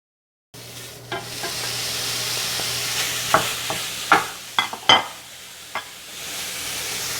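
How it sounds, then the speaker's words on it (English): Ground beef browns in a skillet over medium heat with a steady sizzle, broken by sharp scrapes and taps as a spatula moves the meat around. "Now I'm gonna be moving my ground beef around like this until it loses most of its pink color"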